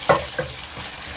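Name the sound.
garlic frying in cooking oil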